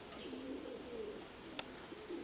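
A pigeon coos softly in low, drawn-out phrases against quiet outdoor background, with a brief sharp click partway through.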